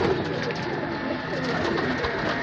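Pigeons, including blue dumba pigeons offered for sale, coo steadily and softly in a continuous flock murmur, with no clear talk over them.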